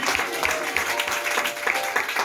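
Church congregation applauding and cheering in praise of Jesus during a French-language sermon, a steady wash of clapping and voices held at an even level throughout.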